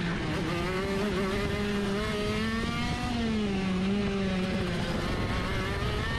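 A shifter kart engine on a track whines up through the gears, its pitch climbing and dropping with each shift in a continuous high buzzing rasp, moderately loud and without speech.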